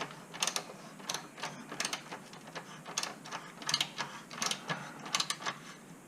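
A ratchet wrench tightening the rear axle on a Kawasaki Ninja H2 motorcycle, with rapid repeated clicking strokes in quick bursts, close and moderately loud.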